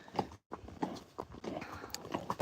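A horse's hooves clip-clop at a walk along a road, a run of soft, fairly close strikes with an uneven rhythm and one brief gap, heard while the horse is led on a rope.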